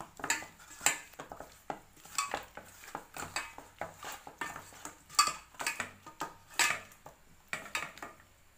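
Fish pieces being mixed by hand with turmeric and salt in a bowl, producing quiet, repeated clinks and soft scrapes in an uneven rhythm, close by with no talking.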